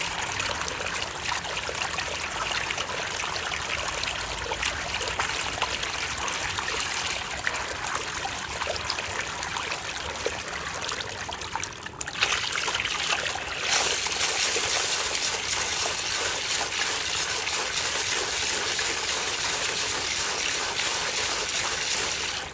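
Water from a DC50E-1280A DC pump gushes and splashes in a steady, loud, continuous flow during a demonstration, growing slightly brighter and more forceful partway through.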